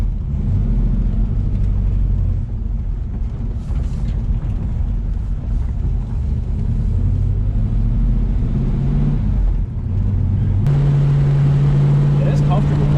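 A restomod 1965 Ford Mustang drives along with a loud, close engine rumble and road noise that rises and settles as it runs, and a steady tone enters near the end; no voices cut in.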